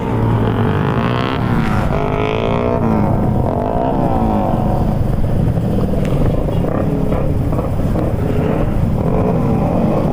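Raider motorcycles racing each other in a street drag race on a boulevard, engines roaring loud and close with rising and falling revs throughout, under a constant rough exhaust drone.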